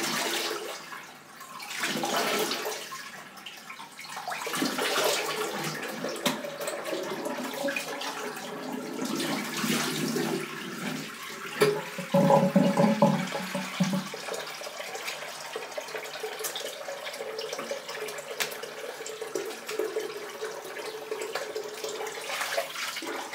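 A Gillette Aristocrat safety razor is rinsed under a running tap, with steady splashing water over about twenty seconds and a brief louder gush midway.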